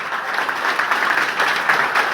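A crowd at a business training program gives strong, sustained applause, a thick, even patter of many hands clapping close by.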